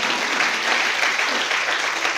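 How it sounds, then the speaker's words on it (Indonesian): A church congregation applauding during a sermon, a dense, steady clapping that fills the room evenly from start to finish, loud and without pause. "Nah itu boleh tepuk tangan, boleh itu."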